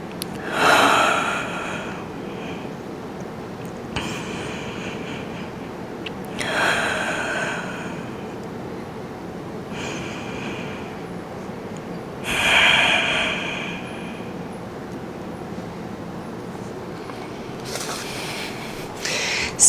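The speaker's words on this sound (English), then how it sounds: "Relax your head down, 3 deep inhales and exhales." Deep breathing during a Pilates workout: four slow, broadband breaths, roughly one every six seconds, with fairly close, airy inhales and exhales and no talking.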